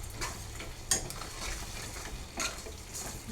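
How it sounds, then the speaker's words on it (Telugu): Chili powder frying with tomatoes in a pan for a tomato egg curry, a steady low sizzle with a few soft spoon scrapes and clinks against the pan, close and alone without talk. "ఒక 2 నిమిషాలు బాగా మంచిగా పచ్చివాసన పోయే వరకు ఈ కారము అంతా వేయించుకోవాలి"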